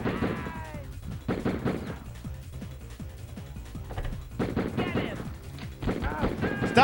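Gunfire in a Die Hard video game: bursts of rapid shots and clattering impacts in several clusters, mixed with game effects and mechanical sounds, with voices heard at moments.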